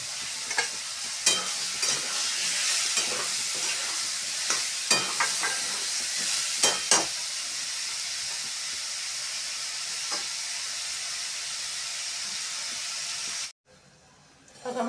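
Tomatoes frying with chili powder in a pan for tomato chutney: a steady, close sizzle with intermittent scraping stir strokes, cutting off abruptly near the end.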